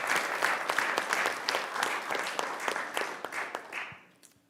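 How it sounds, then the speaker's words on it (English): Conference audience applauding panelists and speakers on the second day of a field work conference, a dense crowd of claps that holds steady and then thins out and fades near the end. "I think we should just give one more round of applause for our panelists and speakers."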